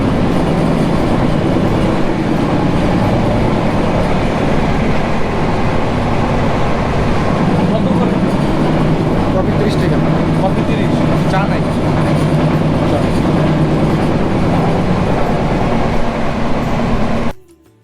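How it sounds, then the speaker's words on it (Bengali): A passenger train runs on the rails from Dhaka toward Bhanga and Faridpur, heard from inside the carriage as a loud, unbroken rumble and rattle lasting throughout, with people talking over it. "এরপরে আমাদের ট্রেন ভাঙ্গার দিকে যেতেছিল"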